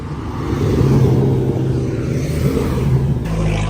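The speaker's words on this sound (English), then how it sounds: "The Koenigsegg space car." A Koenigsegg engine revs at Monterey Car Week, a loud, deep rumbling roar that swells and holds before shifting abruptly near the end, with no voices.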